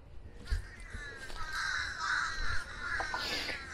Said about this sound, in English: Or ravens, not crows.